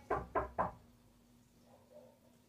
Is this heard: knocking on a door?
yes